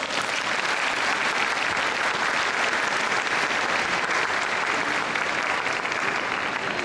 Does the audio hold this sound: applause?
yes